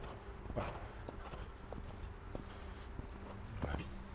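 Horse hooves clip-clopping at a relaxed walk while the horse moves freely at liberty during a warm-up session, with steady irregular footfalls under a person talking nearby.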